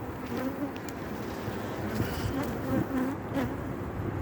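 Honey bees swarming around an opened beehive during a winter inspection, a dense continuous buzzing hum close to the microphone with a few individual bees passing nearby.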